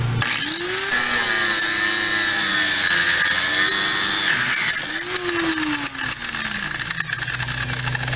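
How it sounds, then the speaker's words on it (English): A steel bar being cut with a power tool, probably a high-pitched grinder whine that rises as the blade bites in, runs loud and close, eases, then spins back up for a second pass. "if you look over here, I'm going to cut that bar and I'm going to weld it on"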